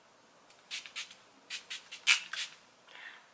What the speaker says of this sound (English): you're supposed to go in with spray